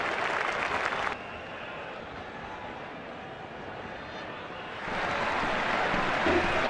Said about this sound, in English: He's getting a polite round of applause as he makes his way back to the pavilion.